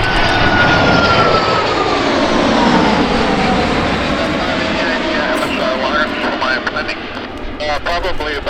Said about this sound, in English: United Boeing 777 at the world's largest aviation event in one breathtaking moment.